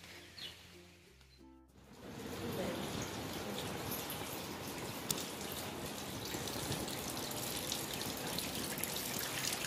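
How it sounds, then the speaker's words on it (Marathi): Light drizzling rain outdoors, a dense steady hiss of fine drops that starts after a brief quieter moment with a faint voice and continues evenly at moderate level. "आज बारीक बारीक पाऊस आहे"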